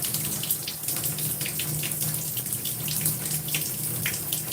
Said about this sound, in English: I do take time to rinse the product out of my hair.